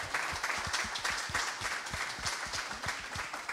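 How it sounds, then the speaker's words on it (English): An audience at a live football podcast event claps for a guest, a steady round of applause with distinct individual claps rising out of the crowd's wash at moderate volume. "Everyone, round of applause for Matthew Anderson."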